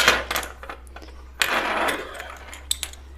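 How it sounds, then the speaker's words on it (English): A sewing machine stitching a uniform tunic, close and moderately loud in short runs of rapid mechanical whirring over a low electrical hum, with a few small clicks between runs. "All right, so we're going to start sewing"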